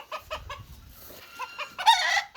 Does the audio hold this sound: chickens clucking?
yes